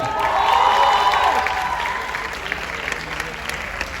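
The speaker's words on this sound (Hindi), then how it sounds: "पूरे बैंड के लिए तालियां चाहिए।" Crowd applauds and cheers for the band at a fan meetup in Lahore, a dense wash of clapping that swells loud at first and then gradually thins out.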